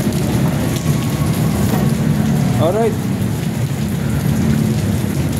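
Heavy rain pours steadily and loudly throughout, a dense wash of noise with low rumbling that fits thunder; someone speaks briefly in the middle.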